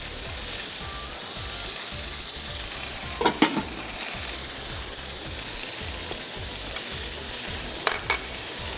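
Chicken frying over high flame in a pan gives a soft, steady sizzle, with a few sharp clinks of a utensil against the pan breaking through, and no talking.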